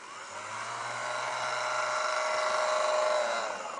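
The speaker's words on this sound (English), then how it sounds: "Proto always seem to have engines with very satisfying whirring noises." A Proto 1000 Budd RDC model train's electric motor whirs continuously close by, a steady mechanical whine that slowly rises in loudness and pitch as it speeds up, then cuts off near the end.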